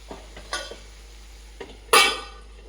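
A few sparse spatula scrapes and stirs move potatoes through generous oil in a pan for a potato poriyal, with one louder scrape near the end and little sizzle.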